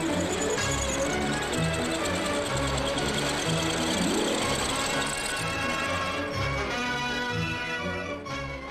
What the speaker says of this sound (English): the large circular cutters return to machine the end face